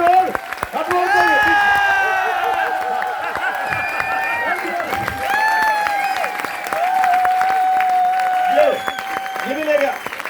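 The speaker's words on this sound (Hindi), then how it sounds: "अब दोबारा और अब ताली" An audience at a money-mindset training session claps on cue, a dense run of hand claps with scattered cheers rising and falling over about ten seconds while an amplified voice speaks over it.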